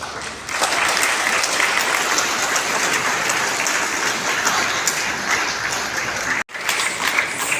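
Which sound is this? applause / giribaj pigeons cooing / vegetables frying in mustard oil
applause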